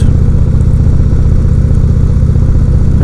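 The Thunderstroke 111 engine of a 2016 Indian Roadmaster touring motorcycle drones loud and continuous while riding, a deep, even, throbbing pulse with no pauses.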